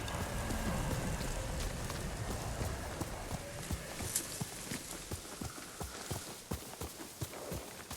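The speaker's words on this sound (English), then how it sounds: "This doesn't seem dangerous, going through the trees like this on a horse." A horse's hooves drum over ground in Ghost of Tsushima, riding through trees; rapid, regular clip-clop beats stay close and fairly loud over a hissing rain-like ambience.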